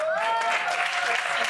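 Short burst of studio-audience applause on a French TV show for a singer, loud and continuous, with a voice talking over the start.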